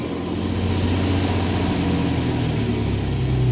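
A 1990 Jeep Cherokee XJ with the Renix 4.0 engine idles low. It gives a steady, close, loud rumble with a deep throbbing hum and no voices.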